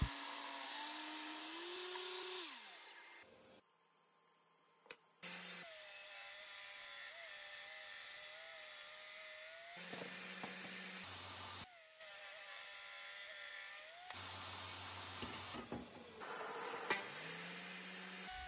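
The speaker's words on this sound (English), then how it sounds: "I sit the remaining pieces of hardwood on edge and begin to rip them down the middle." A table saw rips hardwood offcuts down the middle, in several separate passes: the blade whines up to speed, the tone drops and buzzes as it bites the wood, then it spins down between cuts.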